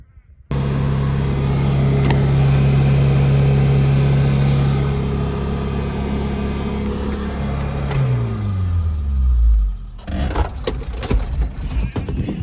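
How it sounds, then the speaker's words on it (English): A car engine races at a sustained high rev with its accelerator pedal stuck down, a loud steady drone that holds, then sinks in pitch as it winds down near the end, followed by scattered clunks and knocks. "The car keeps fucking revving and I see the problem."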